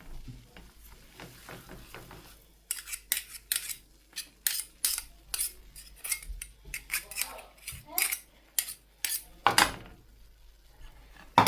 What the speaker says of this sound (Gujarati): શેકતું રહેવાનું આવી રીતને, કલર બદલે ને ત્યાં સુધી